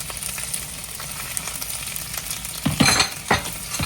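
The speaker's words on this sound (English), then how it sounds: "I'm putting in the pan to saute" Onions and peppers sautéing in a pan for brisket hoagies: a soft, steady sizzle, then a cluster of louder scraping stirs near the end, close up and without talk.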